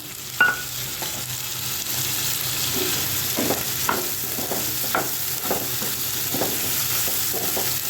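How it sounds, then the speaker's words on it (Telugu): Tomato pieces fry in a pan with a steady, close sizzle, broken by a series of sharp scraping and tapping clicks as a utensil stirs them. "ఇవి కూడా వేగాలి కదండి ఇదిగండి వేగుతుంది కదండి ఇది"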